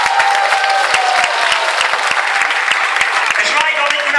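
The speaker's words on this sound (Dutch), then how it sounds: "geef deze kanjes een groot applaus." An audience at an indoor swimming pool breaks into loud, sustained applause with sharp individual claps and some chatter, echoing in the hall.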